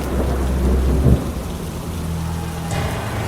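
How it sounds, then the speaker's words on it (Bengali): A thunderstorm with heavy rain and gusting wind, used as a sound effect for a horror story, brings a deep roll of thunder over a loud, steady downpour. "বাইরে প্রবল বৃষ্টি শুরু হয়েছে,"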